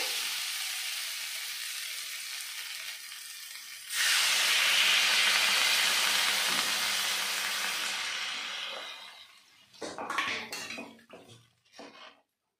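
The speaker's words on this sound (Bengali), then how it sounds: "এখন আমি দিয়ে দেবো পরিমাণ মতো জল" Water poured into a pan of fried vegetables for a kohlrabi, potato and tilapia curry, with a steady hiss that jumps into loud, sustained sizzling and steaming and then fades into a few clanks of utensils, heard close with no talking.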